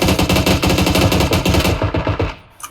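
Machine gun fire in PUBG, a loud, close, sustained burst of rapid automatic shots that stops abruptly near the end, followed by a faint click.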